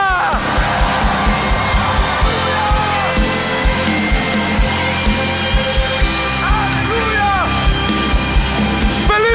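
A church congregation shouts and cheers loudly over thumping music with a regular beat, voices whooping and yelling together in a lively, crowded service.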